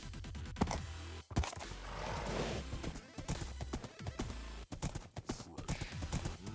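Horse hooves clip-clop steadily in the Minecraft modpack GT New Horizons, a brisk continuous rhythm that stays close and loud from start to finish.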